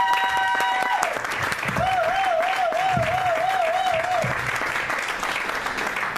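Congregation at a Christian church service applauding and cheering in praise of Jesus Christ, a steady, loud roar of clapping with voices filling the room and a sustained wavering tone running through part of it.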